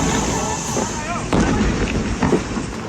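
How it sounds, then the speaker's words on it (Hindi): Gas cylinders from an LPG truck crash on the Jaipur-Ajmer highway blowing up one after another, loud booming blasts over a steady roar of fire, with people talking. "टक्कर के बाद गैस सिलेंडर एक के बाद एक फटने लगे और कई धमाके हुए।"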